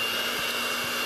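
An electric mixer beats heavy whipping cream with sugar and vanilla extract, giving a steady, loud, continuous whir with no pauses.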